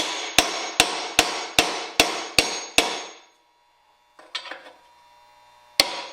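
Seven sharp metallic hammer blows land in a steady rhythm on a Ford 8.8 differential, then a brief rattle of tools and one final strike.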